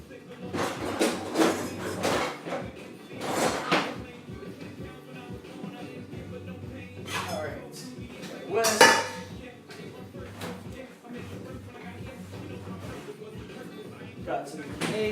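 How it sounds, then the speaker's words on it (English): Whisking by hand in a bowl while preparing rhubarb and fried chicken, with rapid clinking and scraping of utensil against dish in bursts, close and fairly loud, with some talk mixed in. "I bet I could get away with just whisking this by hand."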